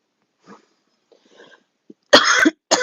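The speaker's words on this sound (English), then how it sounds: "Please excuse my cough." A few faint breathy sounds, then two loud, harsh coughs close by, the second cut short.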